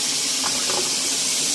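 Hot, steaming water from a sink sprayer hisses steadily while rinsing the grooves of a vinyl record, a constant close spray with no talk over it.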